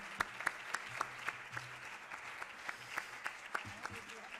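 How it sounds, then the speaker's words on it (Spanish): Applause for a foundation's director general at a Princess of Girona Foundation prize ceremony, a modest, fairly faint patter of clapping from a small audience with a few sharper individual claps standing out and a voice speaking underneath. "Un aplauso para la directora general de la Fundación."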